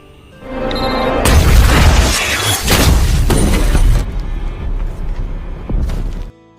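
A loud, booming blast from a sniper action film erupts and sustains as a roaring, crashing wash for several seconds before cutting off abruptly.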